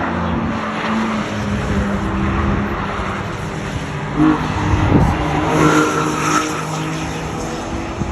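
Fast cars on the Nürburgring Nordschleife roar past, a loud, continuous engine drone that swells and fades as they pass, heard from trackside with no talking.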